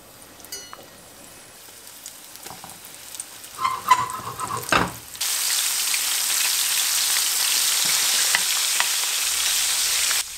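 Flour-coated liver cubes drop into hot oil after a few scattered clinks, then a loud, steady frying sizzle takes over and holds evenly to the end, close and with no voices.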